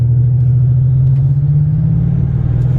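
A car's engine rumbles with a low, steady drone as it pulls away from a full stop, loud and close, and its pitch rises slightly as it accelerates.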